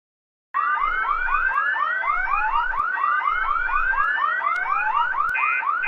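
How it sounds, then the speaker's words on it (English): A cartoon fire alarm sounds after being pulled: a loud, rapidly repeating electronic whooping siren that starts suddenly and cycles steadily and alone throughout. "I'm going to pull the fire alarm as a prank for April Fools."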